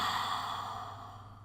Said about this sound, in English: Take a full inhale. One open mouth exhale